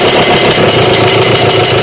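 A Lambretta Series 2 scooter's two-stroke engine runs loud and close at a steady, raised idle with a pulsing, buzzy rhythm, no voices over it.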